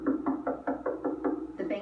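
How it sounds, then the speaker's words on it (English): Repeated banging knocks on a door, about eight evenly spaced heavy thumps in quick succession, close and fairly loud with no talking. "The banging at the door woke me up."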